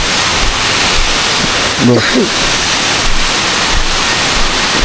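Steady roaring rush of water from a waterfall at a reputedly haunted falls, loud and constant throughout, with a man's brief spoken word partway through.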